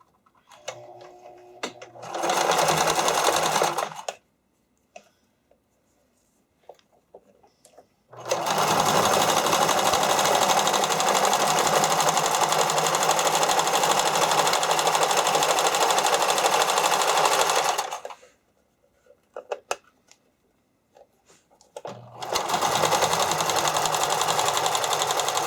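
A sewing machine stitches rolled elastic strap for swimwear and spandex costuming in loud continuous runs, stopping and restarting in three long bursts with quiet gaps between.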